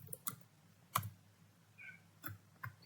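A computer keyboard in a terminal session gives a few sparse, distinct key clicks spaced irregularly across a quiet room, with no talking.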